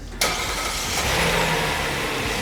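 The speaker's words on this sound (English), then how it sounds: "I'm gonna hold this button and it's gonna start the truck" A 2022 Hyundai Palisade Calligraphy started remotely with the key fob: the engine cranks abruptly, catches and settles into a steady, loud idle.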